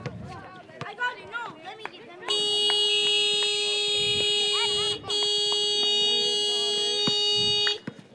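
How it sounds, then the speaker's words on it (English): A long, loud electronic final buzzer sounds at the end of a summer-camp basketball game between the Supersonics and Bobcats, blaring steadily for about five seconds with a brief break, after a stretch of gym chatter and shoe noise. "That's the final buzzer for this one."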